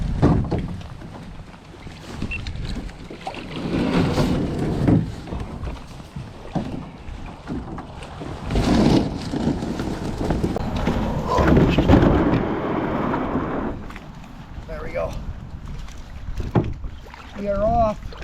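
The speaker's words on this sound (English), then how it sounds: "It's been a while since I fished in this kayak." Kayak paddling on a cold northern Wisconsin lake just after ice out, water swishing in uneven surges with wind buffeting the microphone and someone talking at times.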